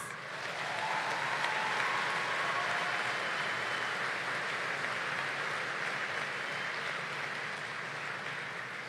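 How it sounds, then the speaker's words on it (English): Sustained applause from a large audience at a 2017 graduation ceremony honoring the graduates, a dense, steady wash of clapping that swells in quickly and holds at an even level for the full stretch. "how about a round of applause for us?"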